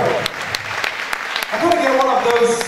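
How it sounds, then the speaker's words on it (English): Fashion show audience at Africa Fashion Week Amsterdam claps in a loud burst, with talking and a cheering voice rising over the clapping in the second half. "A round of applause for Aries Jordan"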